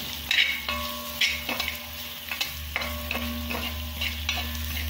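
Coriander powder stirred into a vegetable curry frying in a pan, a steady sizzle broken by repeated scraping stirs at an even rhythm, close and moderately loud with no voices.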